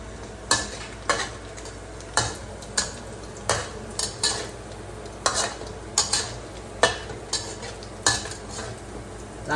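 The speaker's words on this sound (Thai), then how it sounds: "เราต้องผัดผัดให้มันหอมๆนะครับ" Stir-frying in a pan until fragrant: a spatula scrapes and clacks against the pan in a regular rhythm of sharp strokes roughly every second, close and clear over a steady frying sizzle, with no talking.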